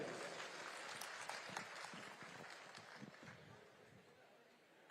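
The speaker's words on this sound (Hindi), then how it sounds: "कृपया ताली बजाकर स्वागत करेंगे।" An audience at an outdoor memorial ceremony gives a welcoming round of applause, a crowd of many hands clapping steadily and slowly fading, heard from some distance with faint chatter beneath.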